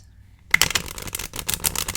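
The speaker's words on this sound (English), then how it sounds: "So I thought I would shuffle some cards" Tarot cards from a cat-themed deck shuffled close up, a dense run of crisp riffling flutters and soft card slaps after a quiet start, steady and intimate.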